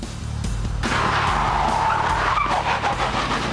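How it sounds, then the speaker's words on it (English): Stunt car skidding during filming of the ITV police drama The Bill, with loud, sustained tyre screech over engine roar, heard close and continuous for several seconds. "we're skidding a car right now. It's the sound of the Bill."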